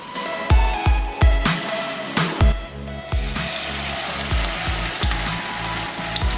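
Chicken leg pieces dropped one by one into hot oil, each landing with a sharp splash that sets off a loud, crackling sizzle, the spitting hiss building steadily as more pieces go in.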